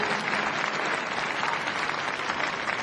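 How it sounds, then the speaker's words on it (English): Steady, dense applause from a crowd at Crufts dog show, cheering a finished routine, sustained and loud throughout without pause. "Give a big round of applause."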